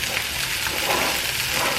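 Vegetables frying in a skillet on a home stovetop give a steady, broad hiss of sizzling, close and continuous for the whole stretch with no voices.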